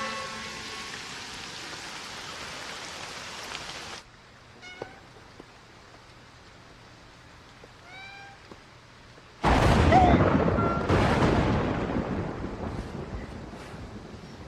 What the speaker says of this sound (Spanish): Truena y llueve otra vez.